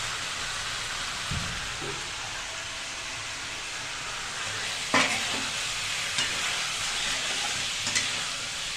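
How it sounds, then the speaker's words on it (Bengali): Koi fish curry with cauliflower and peas is stir-fried in a pan, giving a steady close sizzle broken by a few scraping stirs. "এবার ভালো করে কষাবে।"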